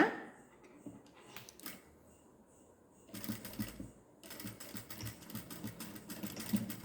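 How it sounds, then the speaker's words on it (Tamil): A sewing machine stitches a zip onto a chudidar, sounding as soft rapid clattering bursts that start and stop, with faint intermittent handling noise between runs. "நான் நிறுத்தி தைக்கிறேன்"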